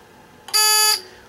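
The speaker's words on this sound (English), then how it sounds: "One is the buzzer" A single short electronic buzzer tone from a buzz wire game sounds loudly for about half a second, then stops, against a quiet background.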